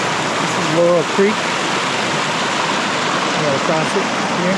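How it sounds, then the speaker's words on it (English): Laurel Creek in the High Sierra rushes steadily over rocks, a continuous broadband wash of moving water, close and fairly loud, with brief faint tonal bird-like chirps riding above the flow. "This is Laurel Creek."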